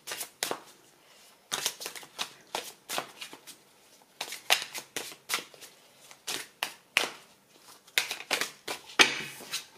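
Tarot de l'amour cards by Doreen Virtue being shuffled, a run of quick papery riffles and flicks in short bursts with brief pauses, close and crisp.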